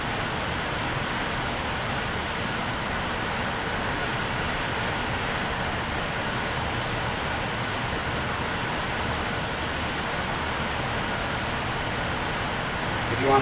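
Steady, continuous roar of a MiG-19P jet engine warming up on the ground in the DCS flight simulator, broadband and unchanging at moderate loudness throughout, with no breaks or surges.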